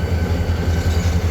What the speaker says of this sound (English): That's the CN train right here in Nova Scotia.